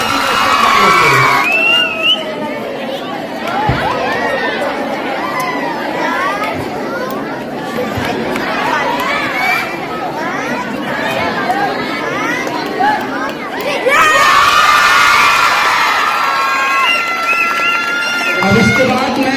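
Crowd at a school mushaira cheering and clapping, with children shouting and chatter mixed in, sustained and loud from start to finish with a brief surge near the end.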